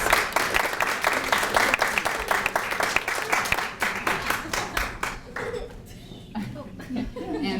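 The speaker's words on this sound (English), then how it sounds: "So I'd like to give them a little round of applause." Guests at a graduation reception for university students give a round of applause. The clapping is rhythmic and fairly close, with some chuckles and voices mixed in, and it thins out toward the end.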